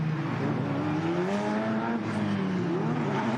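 Engine of a C8 Corvette pace car droning steadily at a race track, its pitch wavering and rising slightly as it runs, loud and close throughout with no talk.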